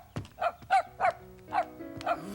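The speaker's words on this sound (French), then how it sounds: "Il aboie, grand-maman." A small cartoon dog yaps in a quick series of about six high, bright barks, close and clear, with a faint tonal background sound underneath.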